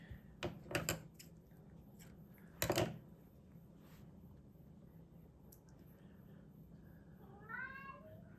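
A hungry house cat gives one rising-and-falling meow near the end, after several sharp clicking and rustling sounds in a quiet room with steady background hum.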